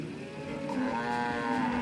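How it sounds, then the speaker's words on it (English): A cow moos in one long, drawn-out call with a rising, wavering tone, heard clearly and fairly close with no talking over it. "I'm glad the cow is back in its yard."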